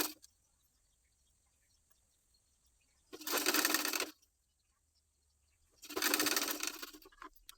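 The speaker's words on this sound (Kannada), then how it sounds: "ಈಗ ಹುಕ್ ಪಟ್ಟಿ ಹಚ್ಚಿ ಸ್ಟಿಚ್ ಮಾಡ್ಕೊಳ್ಳೋಣ." A sewing machine stitches a hook strip onto a blouse in two separate bursts of about a second each, close and fairly loud, with quiet pauses between runs.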